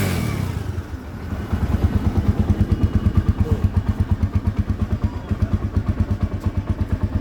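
A TVS Apache RTR motorcycle idles close by after starting, its single-cylinder engine pulsing in a steady, even loud putter that continues unbroken throughout.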